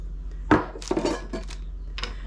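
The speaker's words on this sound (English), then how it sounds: "let's stir it." A few distinct clinks and scrapes of a utensil against a bowl, spaced irregularly, close by with quiet gaps between.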